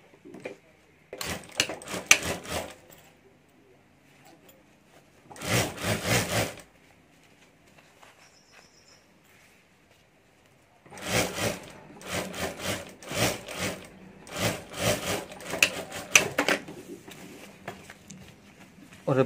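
A sewing machine stitches a zip onto a handmade hand bag in several loud, close bursts of rapid mechanical whirring, separated by quiet pauses.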